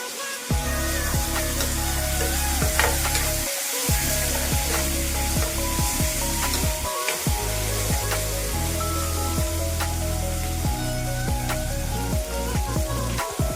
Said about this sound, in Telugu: ఇప్పుడు 2 మీడియం సైజు టొమాటోస్ ఈ విధంగా కట్ చేసి వేసుకుంటున్నాను